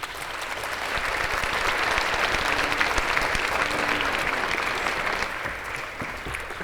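Loud, sustained applause from a large audience at a formal scholarship ball, steady clapping filling the room for several seconds as a student speaker is welcomed, with faint crowd murmur underneath.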